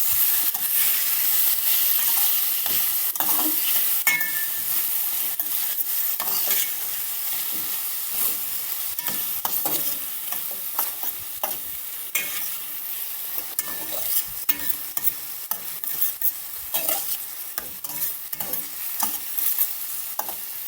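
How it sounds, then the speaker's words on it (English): Chicken is stir-fried in oil with natural seasoning, a loud, continuous sizzle broken by frequent scraping and clattering strokes of a spoon against the pot, close and steady for about twenty seconds. "Now I'm going to add in all the natural seasoning. Stir fry a bit."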